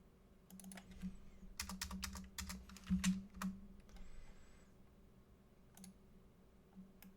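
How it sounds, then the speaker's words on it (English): Typing on a computer keyboard, close and fairly quiet, with clusters of quick key clicks and taps in irregular bursts that thin out toward the end. "Now just type in Darth Maul spider."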